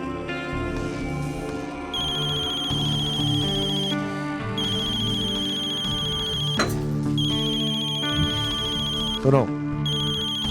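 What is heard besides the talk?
telephone ringing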